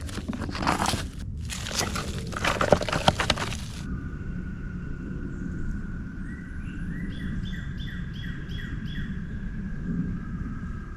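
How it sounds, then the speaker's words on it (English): After a burst of close crunching and rustling, a bird sings a repeated series of clear, bright notes in the distance over a low outdoor rumble. "It's nice with the birds over here."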